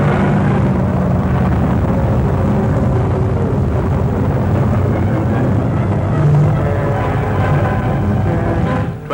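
World War II aircraft of the airborne army fly overhead during a huge operation of some 6,000 planes, heard as a loud, continuous engine drone with wind-like rumble that holds steady throughout, with no voices.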